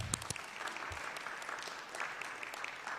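Quiet, steady applause from a modest group at a city council meeting, soft and somewhat distant, with a few sharper claps near the start.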